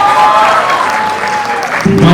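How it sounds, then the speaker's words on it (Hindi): A college festival audience claps loudly and steadily for a performer named Anamika, the dense applause filling the hall with a few voices and a faint tone rising through it. "एक बार जोरदार तालियां for Anamika everyone."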